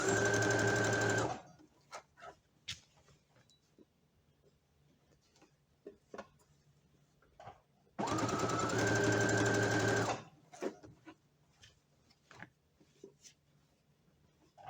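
A sewing machine stitches shorts fabric back and forth in reverse, with two short whirring bursts close up separated by quiet ticking and handling clicks.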